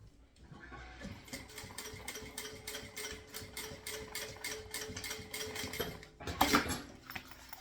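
A sewing machine runs a slow, even series of distinct stitch ticks through a synthetic crossbody bag, faint and close, ending with a louder clunk.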